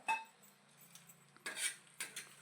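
A spoon scrapes and clinks against a pan while onion is stirred into an egg chutney mixture over a low flame, quiet and close, with a few sharper metallic knocks toward the end.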